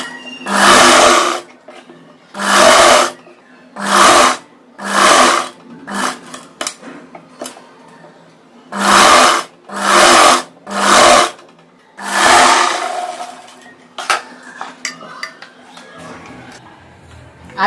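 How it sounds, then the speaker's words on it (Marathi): A sewing machine stitches a blouse lining in repeated loud bursts of rapid whirring, about a dozen short runs separated by brief pauses, close up with faint handling noise between. "आता आपल्याला याच्यावरती एक शिलाई मारून घ्यायची."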